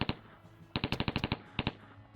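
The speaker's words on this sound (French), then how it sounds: "Puis il prit le fusil d'assaut, le pointa contre le mur derrière lui et vida la moitié du chargeur de ce dernier." An assault rifle fires into a wall in several loud, close bursts of rapid shots: two quick rounds, then a sustained rattle of about ten, then two more.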